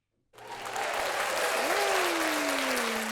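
Sudden burst of applause and cheering that starts from silence and holds steady and full, with a whistle-like tone sliding downward through the clapping, probably a dropped-in sound effect on a talk show.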